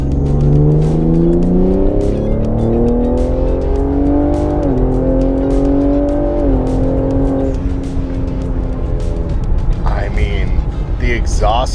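A Ford Explorer ST fitted with an AWE Touring catback exhaust and catted downpipes accelerates hard, its loud exhaust note climbing steadily through the gears with brief shift dips, close and continuous, ending in a burst of tire noise.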